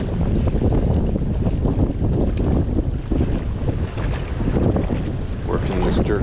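Strong wind buffets the microphone on open water during a bass fishing outing, a steady loud roar with gusts and water slapping against a boat throughout.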